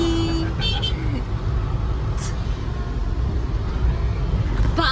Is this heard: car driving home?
yes